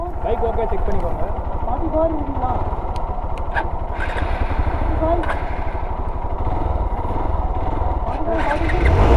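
A motorcycle engine runs steadily and close by for the whole stretch, a continuous low rumble with a rising rev near the end, while a person speaks over it.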